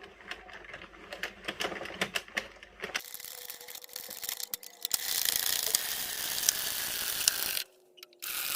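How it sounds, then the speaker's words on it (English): An Addi Express knitting machine casts on waste yarn in a zigzag pattern, sounding as a steady run of soft mechanical clicking and ratcheting at close range, with denser whirring in the later part and a brief pause near the end. "we're just going to be casting on 5 rows of waste yarn, just using the zigzag cast on method"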